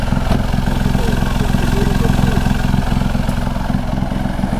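A car engine idling close by, a steady low throbbing rumble with a regular pulse and no change in pace.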